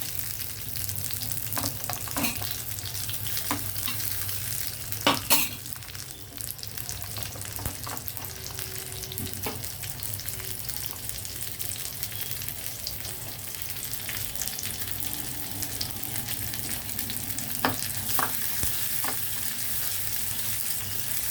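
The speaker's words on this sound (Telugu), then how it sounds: "ఆయిల్ హీట్ అయ్యింది. వెల్లుల్లి వేసాను, ఉల్లిపాయలు కూడా వేసేసాను." Garlic and chopped onions fry in hot oil for a lentil rasam, giving a steady close sizzle throughout with a few sharp spoon clicks and stirs against the pan, and no voices.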